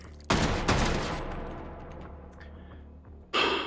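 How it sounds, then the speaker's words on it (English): Sniper rifle shots in the VR shooter Hot Dogs, Horseshoes & Hand Grenades: two loud, close cracks in quick succession with ringing decay, a pause, then a third sharp shot near the end. "Sniper rifle."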